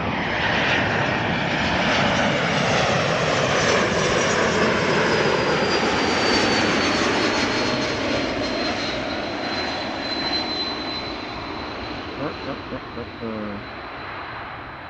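Bombardier C-Series jet arriving at Amsterdam Schiphol from Milan: a loud, close engine roar with a rising whine that passes by and slowly fades, a voice briefly heard near the end.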